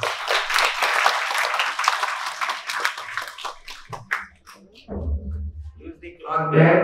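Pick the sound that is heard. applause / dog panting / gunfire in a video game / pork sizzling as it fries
applause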